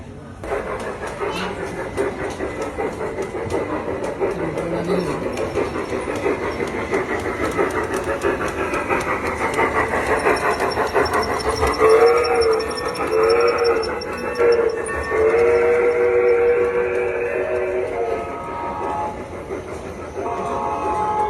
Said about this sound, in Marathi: इकडे ग्रीन लाईट लागली म्हणजे आता आपली ट्रेन येते इथून.